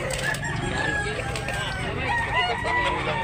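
A white Karkar gamecock crows loudly and close in a busy gamefowl yard, its long call carrying over steady background noise, with faint clucking nearby.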